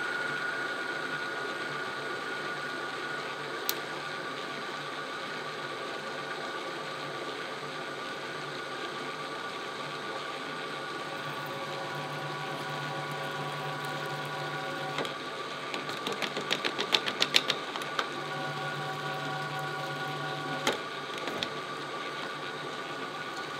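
A Tapmatic tapping head threads 1-inch solid steel plate with tapping oil on a machine turning at 80 RPM. It gives a steady mechanical whir throughout, with a flurry of ratcheting clicks late in the run.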